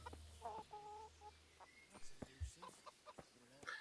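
A black chicken clucking in Kingdom Come: Deliverance, several short faint clucks in an irregular rhythm over quiet background.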